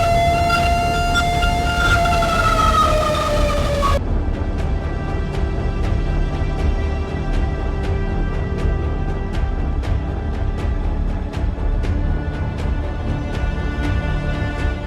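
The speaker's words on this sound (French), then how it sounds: "ne pouvant nous résoudre qu'à écouter les bruits stridents des sirènes" Tornado warning sirens wail in a wide landscape, a loud, rising and falling civil defense tone for several seconds, then a quieter, steadier siren drone dotted with repeated sharp clicks.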